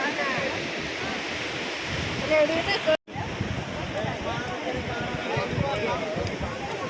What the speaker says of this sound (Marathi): इथून खूप खोले धबधबा आहे खाली